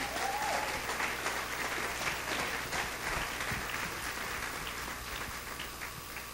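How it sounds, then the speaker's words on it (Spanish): Steady audience applause at a stand-up comedy show, a dense, continuous wash of clapping from a large crowd that holds at an even level for the whole stretch and fades only slightly toward the end. "No sean malos, aplaudan un poquito más"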